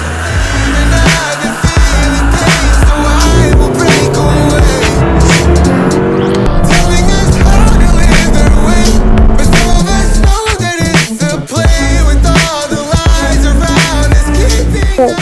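A Toyota RAV4 accelerates hard from 0 to 100 km/h, its engine rising and climbing through successive gears in a loud, continuous run with brief pauses at each shift and some road and tire noise.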